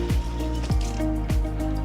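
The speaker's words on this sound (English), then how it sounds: "I'm just gonna put a little bit of water in there and rinse it." Water is run into an emptied pasta sauce jar in a home kitchen to rinse out the leftover sauce, giving a steady sloshing fill with a few drippy squelches, close and fairly quiet.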